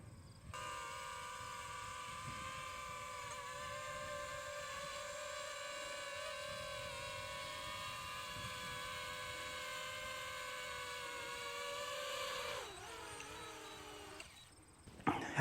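A small drone hovers close by with a steady, high whine from its motors that dips as it sets down for a landing, then cuts to a brief clatter.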